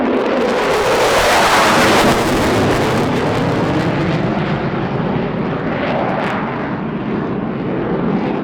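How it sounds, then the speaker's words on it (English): An FA-50, a MiG-29 and two Su-22 jets fly a low airfield attack pass at an airshow: loud, close jet roar with sweeping tearing noise and booming bursts, no voices. "The FA-50, MiG-29 and 2 Su-22s then performed a short airfield attack"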